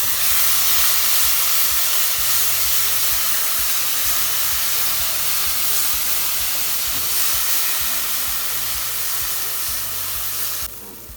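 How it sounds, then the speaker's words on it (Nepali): Gravy for a Nepali fish curry frying in a small amount of oil in a pan: a steady, loud, broadband sizzle and hiss that runs continuously throughout. "यसमा चाहिँ हामीले अघि बनाएको ग्रेभीलाई राखेर एकैछिन रातो हुँदासम्म भुट्छौँ।"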